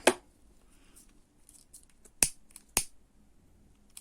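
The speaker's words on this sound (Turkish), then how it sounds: "Sonra da tekrar kesiyorum." Scissors cut nylon cord during work on a bag strap. An opening click is followed by two sharp, distinct snips near the end, set against near silence.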